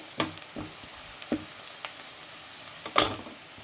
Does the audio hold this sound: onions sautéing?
yes